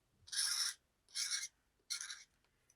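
Three short rasping strokes of a file scrape away a leftover plastic sprue nub on a Revell 1/25 Peterbilt 359 model truck kit, close and dry with brief pauses between strokes.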